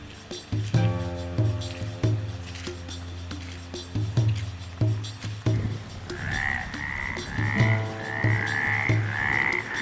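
Sahara frogs call from a pond in Morocco: loud, close, rhythmic croaking repeats throughout, joined in the second half by a chorus of higher trilling calls, with no speech.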